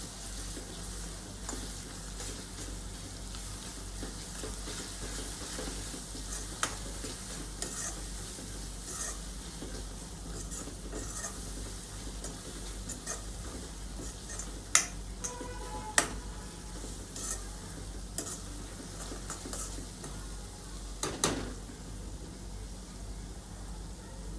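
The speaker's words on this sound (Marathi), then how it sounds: "थोडं 5 ते 7 मिनिटं याला पण तेल सुटेपर्यंत चांगलं भाजून घ्या।" Pav bhaji base with green chilli and garlic paste fries in oil, a soft continuous sizzle running under scattered ticks and scrapes of stirring, with a few sharper clinks; no one speaks.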